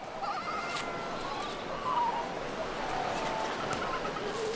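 Kelp gulls call along the southern African coast, giving faint, scattered mewing cries over steady surf-like background noise.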